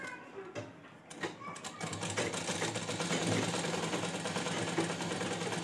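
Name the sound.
sewing machine stitching a zipper seam on a Rabari ghaghra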